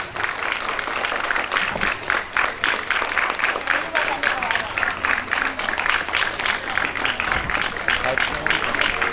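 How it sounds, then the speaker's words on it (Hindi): Audience applause during a Ramayan bhajan: dense, continuous clapping from many hands, loud and close, holding steady throughout. "ताली बजाते रहिए"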